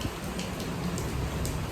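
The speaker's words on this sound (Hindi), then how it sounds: "बहुत तेज़ बारिश आ रही है" Heavy rain falls as a steady, dense roar of drops drumming on surfaces, close and constant throughout, with no speech.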